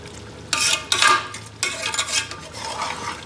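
Mutton baharat curry with coriander leaves stirred in a pan, a spoon scraping and clattering against metal in several bursts over a faint sizzle, close and fairly loud with no talk.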